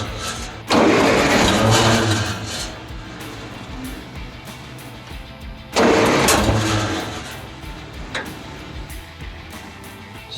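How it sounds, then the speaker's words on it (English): An old tractor, abandoned for thirty years and with a tweaked fuel system, cranks and catches twice. Each attempt gives a loud burst that fades into rough chugging, and a sharp backfire pop comes near the end. "Just backfire."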